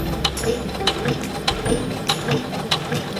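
The feed dogs of a Bernette sewing machine move fabric with a soft, steady mechanical ticking and ratcheting, a light rhythmic clatter at close range with a faint hum underneath.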